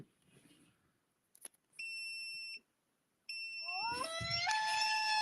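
A phone alert tone imitating a loon call plays in a rising series of bird-like notes, preceded by short steady beeps, loud and close with no talking.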